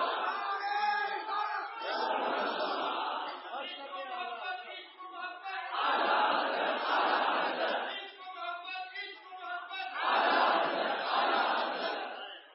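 A large crowd chants a religious slogan in three loud, roaring call-and-response bursts, each swelling for a couple of seconds, set apart by a lone voice leading in between.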